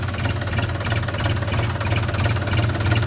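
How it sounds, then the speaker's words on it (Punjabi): An older John Deere 5210 4WD tractor engine idles loudly and steadily nearby, its deep diesel rumble carrying a rapid knocking pulse without letup. "ਉਹ ਆਵਾਜ਼ ਆ ਟਰੈਕਟਰ ਦੀ"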